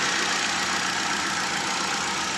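A Hyundai i10 Magna petrol car engine idles in good condition, with a steady, even hum that runs without a break and sounds close and moderately loud.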